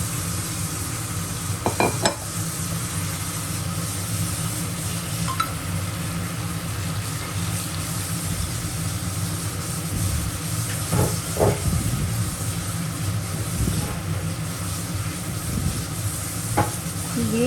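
Soaked potatoes sauté in a pan for Kashmiri alur dom, giving a continuous loud sizzle and hiss with occasional scraping and clinking of a stirring spoon.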